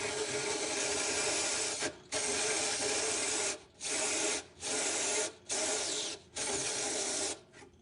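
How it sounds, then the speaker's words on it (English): Reamer grinding into the acetabulum of a sawbones bone model, a close, steady raspy rubbing that runs in several bursts separated by short pauses, with no talk. "the first step that you want to do is you want to ream the acetabulum to get down to good bleeding bone"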